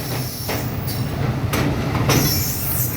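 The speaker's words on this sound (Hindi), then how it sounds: "इस ब्रिज के ऊपर से पाकिस्तान रेलवेज़ की ट्रेन जा रही है" A Pakistan Railways train rumbles past close by on Kotri Bridge with screeching metal wheels and rattling cars, a loud continuous roar with high squeals rising and falling.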